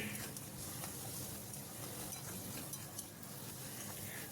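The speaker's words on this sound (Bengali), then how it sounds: "লবণ লাল লঙ্কার গুঁড়ো হলুদ গুঁড়ো আর এক চামচ জিরে গুঁড়ো দিয়ে শুকনো শুকনো মশলাটা একটু ভেজে নিচ্ছি" Dry ground spices, salt, red chili powder, turmeric and cumin powder, fry in a pan for a Bengali khayra fish dish, a soft continuous sizzle with faint stirring ticks and utensil clinks throughout, without speech.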